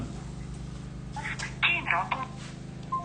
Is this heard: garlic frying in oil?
no